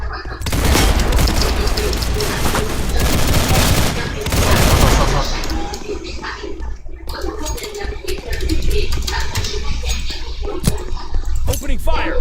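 Gunfire erupts in dense bursts, a loud, booming fusillade of rapid shots that dominates the first five seconds, then thins into scattered cracks and rumbles with voices talking underneath.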